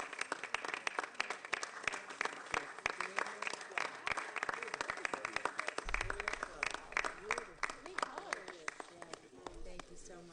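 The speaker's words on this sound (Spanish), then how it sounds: "Aplausos." Attendees at a county commissioners' board meeting clap after flowers are presented to the manager, a scattered, moderate round of applause with a low rumble and talking mixed in.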